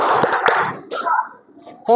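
A classroom group of Indonesian schoolchildren claps the rhythmic 'tepuk fokus' routine, with a few sharp, close claps at the start, then chanted children's voices mixed in.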